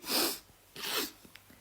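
Two breathy sneeze-like bursts sound close by, one right after the other, followed by a few small clicks; no speech.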